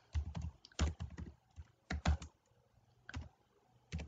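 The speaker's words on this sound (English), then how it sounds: "choose the C++ language here and then start writing the code" C++ code typed on a computer keyboard, with clusters of sharp key clicks coming in irregular bursts and short pauses, close and fairly quiet with nobody speaking.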